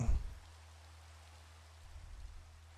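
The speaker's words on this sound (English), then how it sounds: "as soon as we log in, it is, in fact, raining" Steady rainfall in a Minecraft server, a soft continuous hiss of falling drops with a low rumble beneath, faint and even throughout after a brief louder thump at the start.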